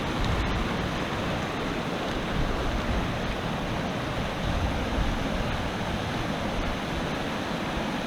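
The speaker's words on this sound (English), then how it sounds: "Again, a very strong stream here. It was so loud that you couldn't even hear yourself think." Fast, hard-running rapids on a mountain stream in the Kootenay Plains, a loud, steady roar of rushing water that fills the air without pause, close and unbroken, with no voices.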